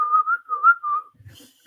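A person whistles a short wavering tune for about a second, clear and close, followed by a faint soft rustle.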